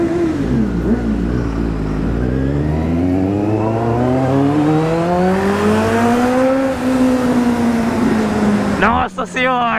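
A Yamaha XJ motorcycle engine revs loud and close, its pitch swelling and sliding up and down in long sweeps before cutting off abruptly with a brief clatter near the end.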